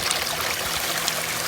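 Water from a 1/3 horsepower model 91330 submersible pump flowing heavily through a gold sluice, a steady, close rushing wash with no talk.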